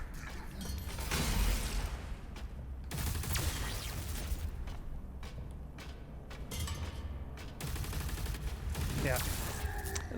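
Weapon fire in the video game Doom: The Dark Ages comes as dense bursts of gunshots and mechanical clanks at fairly steady volume, with brief gaps between bursts.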